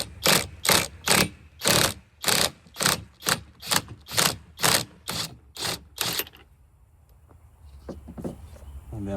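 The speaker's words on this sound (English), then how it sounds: "We should have it compressed enough to where we can go ahead and remove our top hat with a 19 mil." A ratcheting socket wrench removes the strut top hat nut during a lift install on a Toyota Tundra 1794 TRD, giving about a dozen loud, close, rhythmic ratchet bursts before the sound stops and only faint clicks remain.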